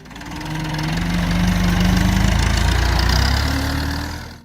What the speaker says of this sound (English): Number 1. The Massey Ferguson